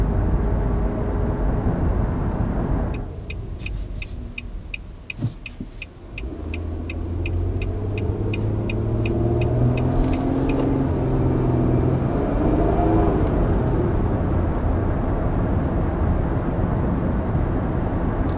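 A 2019 Nissan Murano drives and accelerates, its engine drone rising steadily over constant road noise, with a quick run of light ticking partway through; no one speaks.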